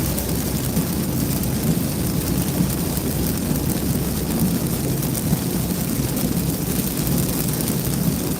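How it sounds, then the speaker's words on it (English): Heavy rain pounds a vehicle during a tornado chase drive in Louisiana, a dense, loud, unbroken roar with low rumble throughout. "Gotta push through this rain,"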